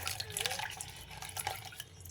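Water trickles and drips faintly into a pot of sprouted horse gram sambar, soft splashes with a light clink of cookware.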